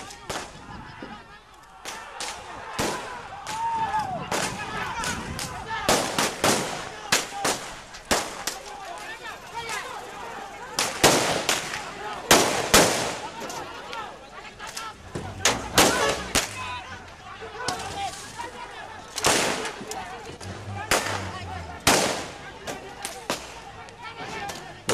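Several sharp gunshots fired into the air by police at a demonstration in West Papua crack out one after another at irregular intervals, loud and echoing, over crowd noise and shouting voices.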